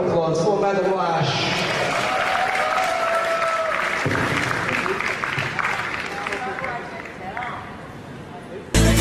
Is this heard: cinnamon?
no